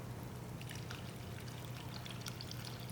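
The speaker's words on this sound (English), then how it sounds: "you want to put enough stock in here so that all the rice and everything in here is covered" Stock poured into a paella pan over rice, a steady continuous liquid pour with soft splashing that runs unbroken and fairly close throughout.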